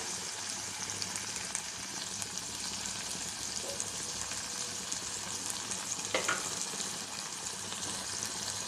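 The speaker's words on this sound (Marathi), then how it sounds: "टमाटरसुद्धा आपण छान असा शिजवून घेऊया" Tomatoes cook in a pan for a paneer frankie, giving a soft continuous sizzle with faint stirring clinks, fairly quiet and steady throughout.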